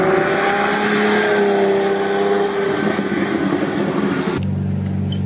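Lamborghini Murcielago cruising in sixth gear at about 60 mph, a steady low engine drone with smooth harmonic hum and road noise, shifting in tone near the end.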